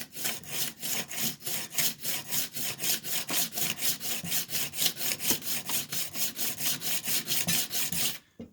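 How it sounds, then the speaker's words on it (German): A steel card scraper being honed to remove its burr, heard as a fast, steady back-and-forth rasping rhythm of about three strokes per second, close and loud, ending abruptly, with no talk. "Hier oben wird der Grat abgezogen."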